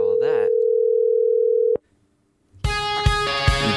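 A phone line dials out with a quick burst of tones, then holds a steady dial-like tone, falls to a brief silence, and connects into a loud automated recorded greeting with music.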